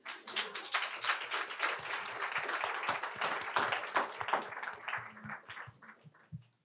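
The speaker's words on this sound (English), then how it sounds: "the final round of applause happened spontaneously" Audience applause at the end of a talk on psychedelics and connectedness, a lively burst of many hands clapping that swells, holds, then thins out and fades as scattered claps trail off.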